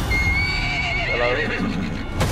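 A horse neighs loudly with a long, shrill whinny in Metal Gear Solid V: The Phantom Pain, over a dense, steady backdrop of game music and hoofbeat-like clatter.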